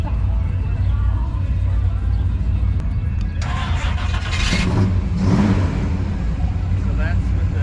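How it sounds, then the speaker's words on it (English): Hot rod at an outdoor car show, its exhaust rumbling low and swelling into a couple of revs near the end, with crowd chatter and voices around it. "Of course, we all want to hear the exhaust."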